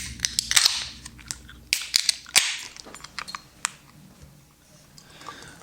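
A can of Cowbell Brewing double IPA being opened up close: a few sharp cracking clicks and short fizzing bursts, then quieter hissing and small ticks, with no talking.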